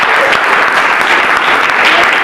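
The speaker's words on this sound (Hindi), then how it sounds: "जोरदार तालियां" Students in a girls' college classroom break into loud, dense applause, steady and close throughout.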